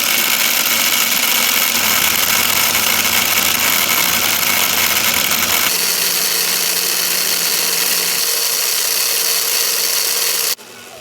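An RC crawler motor runs at full throttle on a bench test with its lights off, giving a loud, steady, close electric whine with rattly vibration. The pitch shifts slightly midway, and the whine cuts sharply near the end.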